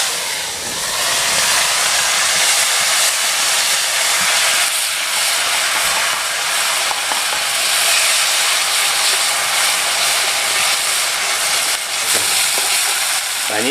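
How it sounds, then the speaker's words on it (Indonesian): Ground spice paste for a balado-style rabbit dish sautés in hot oil with a loud, continuous close-up sizzle and crackle that stays steady throughout and is heard alone. "yang bumbu yang tadi kita tumbuk langsung akan kita goreng ya. Akan kita tumis dulu"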